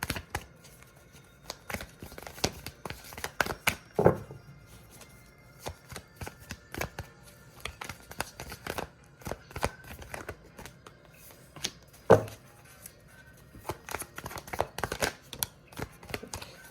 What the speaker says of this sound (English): I'm going to shuffle one last time.